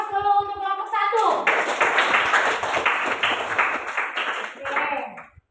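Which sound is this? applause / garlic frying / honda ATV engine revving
applause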